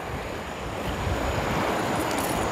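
A stream rushes over rocks at Suối Đá Giăng, Hòn Bà, Khánh Hòa, heard close to the microphone while someone wades through it, giving a steady broadband wash of water and no voices.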